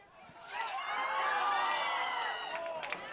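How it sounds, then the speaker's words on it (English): Crowd at a boys' high school soccer game yells and groans in disappointment after an over-kicked ball, a broad swelling roar that peaks and tapers off over a few seconds. "You can hear the crowd's disappointing yelling"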